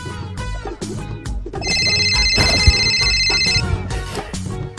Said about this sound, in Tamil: நம்ம உடனே நம்ம ஃப்ரெண்டு மக்கி பைக்கு போன் அடிக்கணும்